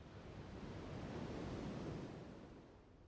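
Ocean waves wash onto a beach in a broad, steady roar that swells and recedes gently, with some wind noise and no voices.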